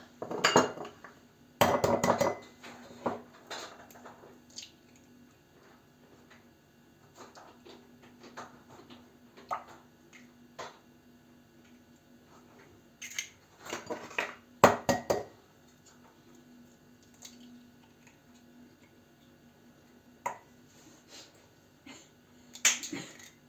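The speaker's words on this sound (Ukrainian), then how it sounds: "три жовтки, білки тут відділяємо. А жовтки вбиваємо сюди." Eggs cracked and separated by hand, yolks dropped into a bowl while the whites are kept apart: scattered clinks and taps of shell and utensils on dishes, quiet stretches between, close by with no talking.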